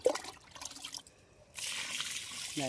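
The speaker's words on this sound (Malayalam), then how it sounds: "ഇങ്ങനെ നാല് സൈഡും ഇങ്ങനെ ഒഴിച്ചു കൊടുക്കാം എല്ലാ സൈഡും എത്തണം" Liquid slurry fertilizer poured onto the soil around a guava plant, a soft trickling and splashing that comes and goes, then swells into a steadier pour near the end, close and moderately quiet.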